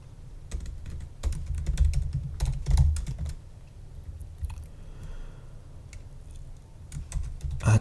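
Code is being typed on a computer keyboard during an Arduino lab: close, irregular clicks of keystrokes arrive in quick clusters with brief pauses, fairly quiet and with no talking.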